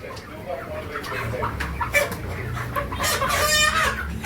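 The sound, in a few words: chicken clucking as it is caught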